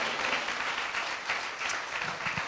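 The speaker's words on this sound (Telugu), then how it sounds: "చప్పట్లు కొట్టి దేవుని కనపరచండి." A church congregation claps together during a Telugu sermon, a steady, dense wash of applause that stays loud and even throughout.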